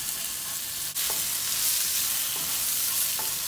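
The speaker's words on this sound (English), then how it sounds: "Flip the sausage over and fry the other side for an additional 1 minute." Sausage fries in a pan for stir-fried green beans, a close, continuous hiss and crackle of sizzling fat with a couple of brief scraping stirs.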